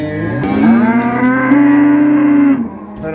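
A heifer at a livestock market in Füzuli gives one long, loud, sustained moo close by, which fades out near the end, with no talk over it.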